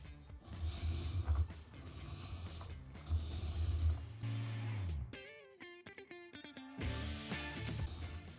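A hand plane blade is passed several times across a sharpening grinder, giving a loud grinding whir with a short mechanical pause in the middle before grinding resumes; no talk.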